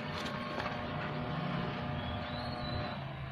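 Astron single tub washing machine with a faulty motor giving off a steady electrical hum, a continuous low drone with faint tonal whine, close and unbroken throughout.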